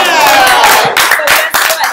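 Brief burst of clapping and cheering during a live-streamed talk show, loud and close, mixed with voices and shouts over the hand claps.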